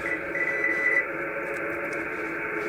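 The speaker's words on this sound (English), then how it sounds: "There's a lot of static and noise that you're going to run into with HF." Static hiss and noise from an HF amateur radio receiver during operation, a steady broadband wash with a faint tone in the first second, continuous and fairly loud with no talking.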